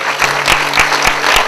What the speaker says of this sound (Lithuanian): Plojimai, plojimai.